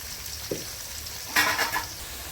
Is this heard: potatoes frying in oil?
yes